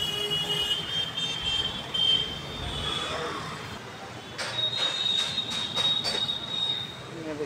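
A metro train runs past near Lekhraj metro station with a steady rolling rumble, long high-pitched wheel squeals and a quick run of clicks from the rails, loud and fairly close.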